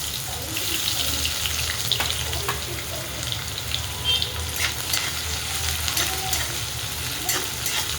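Peanuts, sesame seeds and finely chopped onion fry in a hot pan with a steady, close crackling sizzle, a few brief clinks of stirring over it, and no voices.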